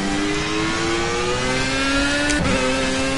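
A Formula A race car in the Project CARS video game holds a steady, high engine drone for several seconds, then the pitch dips sharply as it shifts or lifts before climbing again, loud and continuous.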